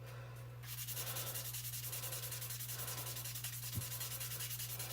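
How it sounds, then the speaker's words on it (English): Steady, continuous sanding of putty on a Man-08 model kit part, a close, even rubbing scrape that keeps a regular back-and-forth rhythm for the whole stretch, with no talking. "So it's okay to sand it like this."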